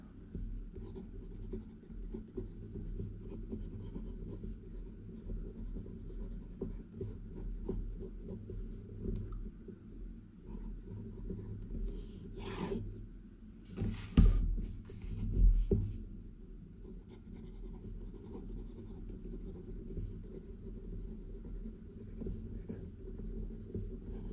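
Steady scratchy rubbing of an Armando Simoni Club Bologna fountain pen with an 18K flex nib writing on paper, close and continuous, with a couple of louder strokes near the middle.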